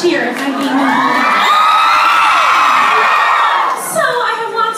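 A large live-show crowd in Dublin erupts in loud, shrill cheering and screaming that holds steady for several seconds, then fades briefly before another swell of excited yells.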